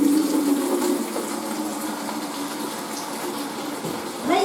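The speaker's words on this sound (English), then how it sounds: "pouring some water into the bowl along with some washing up liquid" Warm water runs steadily into a bowl with washing-up liquid while cleaning walls, a continuous close pouring and filling rush with a brief louder gush near the end.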